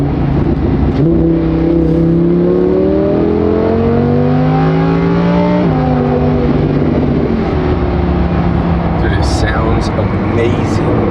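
A Lamborghini Huracán fitted with a new, louder exhaust revs hard, its engine pitch sweeping up and dropping in a loud, close, continuous roar.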